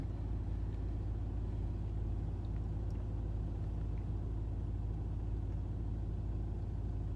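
Steady low rumble of road traffic in Stuttgart, a continuous distant drone of car engines with no clear individual passes, fairly faint throughout.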